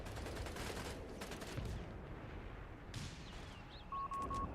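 Battle gunfire from the World War II strategy game Company of Heroes 3: dense, continuous volleys of rifle and machine-gun fire crackle steadily, with a few sharper bursts near the end.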